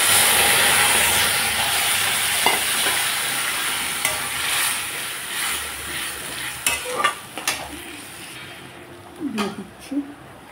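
Bay leaf and ready-made spice paste hitting hot oil with fried cumin, a loud hiss that slowly fades, followed by scattered scrapes and clanks of stirring, with a voice speaking over it.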